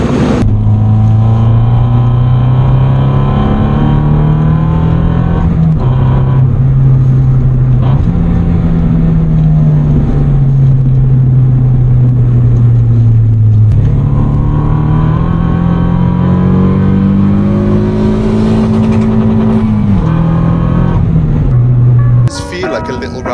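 Toyota Yaris T Sport small petrol engine, compared to a 1.5, pulling through the gears like a little rally car, with a steady drone that rises and falls between shifts, loud and close inside the cabin, with a voice talking over it.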